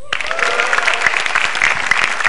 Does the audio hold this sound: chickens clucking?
no